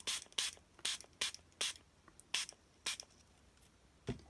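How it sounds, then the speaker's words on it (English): A spray bottle fires about nine short, sharp hissing squirts of blue colour onto journaling cards at an uneven rhythm, fairly quiet and close, with faint clicks between them. "So I'm just going to spray this one."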